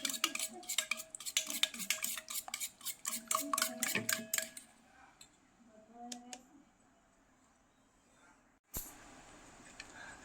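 A spoon scrapes and clinks rapidly against a pan while salt is stirred into egg chilli, then the stirring stops, leaving a few scattered clicks and one sharp knock.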